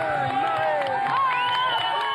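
A dense street crowd surrounds a politician on a walkabout on the way to a celebration at the Bastille, with steady close chatter, overlapping voices and scattered shouts and cheers filling the whole stretch.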